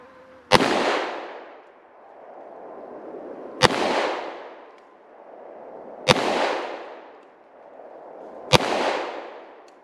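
Four loud, sharp gunshots from a Glock 20 Gen 4 pistol firing 10mm 180-grain full metal jacket rounds, spaced a few seconds apart outdoors, each followed by a long rolling echo.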